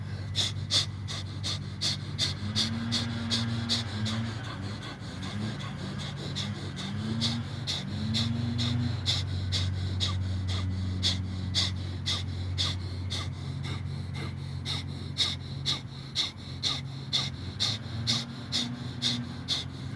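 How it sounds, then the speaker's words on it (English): Breath of fire pranayama breathing, rapid forceful rhythmic exhalations through the nose, close and continuous for the whole stretch, with a low hum underneath. "now we go into the breath of fire, which looks like this. It looks kind of funny. It looks like hyperventilating."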